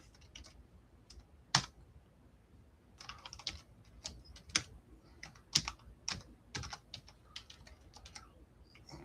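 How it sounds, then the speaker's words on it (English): Typing on a computer keyboard, close and clear: irregular bursts of crisp key clicks with short pauses between them, a few sharper keystrokes standing out, with no talking over it. "I'm typing, so just hang on just a second."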